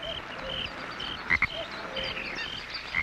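Frogs croaking in a wetland, repeated short chirping calls from several animals at varied distances, with two sharp loud croaks up close midway over a steady background chorus.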